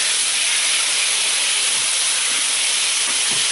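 Chicken stir fry sizzles in a hot pan, a steady loud bright hiss that holds without pause, with a few faint clinks or stirring sounds underneath and no talking.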